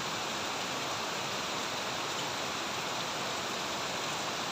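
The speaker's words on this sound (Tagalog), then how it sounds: "Umulan na ng umulan." Steady rain hisses continuously, a dense even wash of falling water with no pauses or voices.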